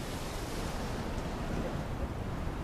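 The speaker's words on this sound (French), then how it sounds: "Les vagues qui commencent à monter contre les rochers" Sea waves surge and crash against rocks on a wild, windswept coast, a steady roaring wash of surf with wind buffeting the microphone throughout.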